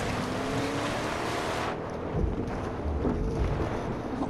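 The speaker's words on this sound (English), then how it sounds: "Let's drive on water!" A vehicle drives across water in a video game, a steady motor drone with splashing, churning wash that thickens as it rolls along, with no talking.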